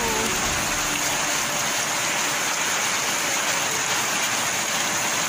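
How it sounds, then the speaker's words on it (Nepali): Heavy rain pours down in a dense, unbroken roar, loud and close throughout with no voices. "लास्टै ठुलो पानी परेको छ"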